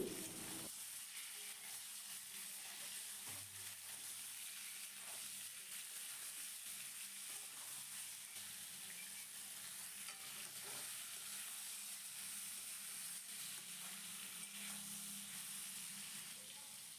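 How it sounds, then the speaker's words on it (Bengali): Potatoes and ridge gourd frying in a pan, a faint, continuous sizzle with occasional soft stirring scrapes over a long stretch and no talking. "ঝিঙেটা দেওয়ার পর আলুর সাথে ঝিঙেগুলোকেও খুব ভালো করে একটু ভাজা ভাজা করে নিতে হবে"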